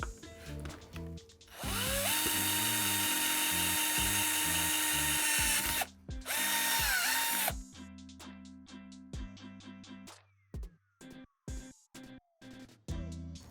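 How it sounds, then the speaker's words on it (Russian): Electric drill with a glass bit bores through pork ribs in short whining bursts, a long shrill run, a brief stop, another burst, then quick stop-start pulses and clicks. "Поэтому в ход идет дрель. Насадка по стеклу."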